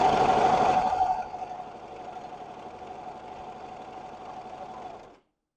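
Brother 1034D serger stitching muslin fabric, opening with a loud whirring run that quickly settles into a steady, softer mechanical chatter lasting several seconds before stopping abruptly.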